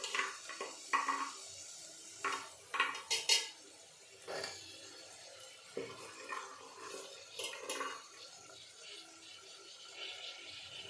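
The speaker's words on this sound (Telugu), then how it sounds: "ఇప్పుడు మనం ముందుగా శుభ్రంగా కడిగి పెట్టుకున్న చిక్కుడు గింజల్ని దీంట్లో వేసేద్దాం" Washed broad beans tipped into a cooking pan for a bean curry, heard as intermittent clinks and scrapes of a spoon against the pan with soft wet stirring sounds, close and fairly quiet, with no voices.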